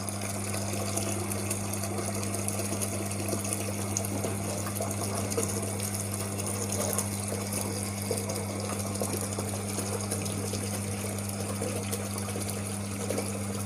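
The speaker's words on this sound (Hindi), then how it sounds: "अब यहाँ पे जो हमारा पंप है इसके ऑन होने के बाद हमारा जो टैंक है वो फिल होना स्टार्ट होगा" A borewell electric water pump runs with a steady electric hum, a continuous low drone and rushing water noise as it fills a tank, running evenly without pause.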